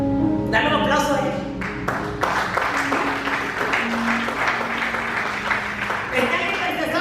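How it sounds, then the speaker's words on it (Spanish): A church congregation breaks into applause during a Spanish-language sermon, a broad wash of clapping blended with sustained musical tones and voices throughout. "Dale un aplauso a él."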